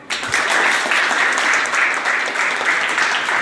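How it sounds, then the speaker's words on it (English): A classroom or workshop group applauds a participant, sustained, fairly loud clapping that starts abruptly and continues evenly, with no talk over it. "Should we not clap for him?"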